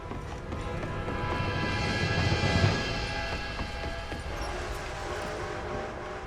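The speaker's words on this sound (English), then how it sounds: "A train!" A steam train approaching in the Red Dead Redemption 2 game, a steady broad rumble and rattle that swells to a peak midway and then holds, with horse hoof clatter mixed into the noise.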